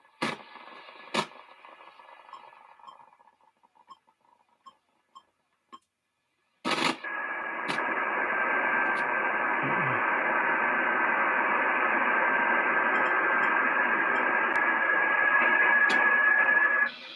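A radioteletype (RTTY) data signal on a shortwave radio band plays as a steady, loud two-tone warble that holds for about ten seconds after a few clicks and bursts of static, then cuts off abruptly.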